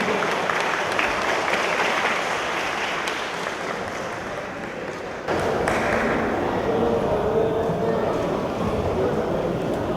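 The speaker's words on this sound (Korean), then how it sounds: "다시 한번 신성호 선수에게 뜨거운 박수 부탁드리겠습니다." An audience at a Muay Thai event in Korea keeps clapping throughout, a steady wash of applause with a few scattered thumps, swelling slightly louder partway through as voices murmur underneath.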